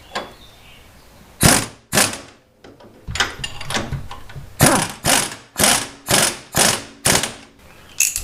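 Ratchet tightening coilover nuts on a car: a series of about ten sharp clicking bursts, the last several coming in a quick regular rhythm, close and distinct over a quiet background.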